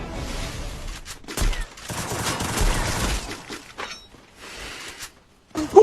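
Video game gunfire comes in rapid bursts of shots with short quiet gaps between them, loud and close. There is little talk.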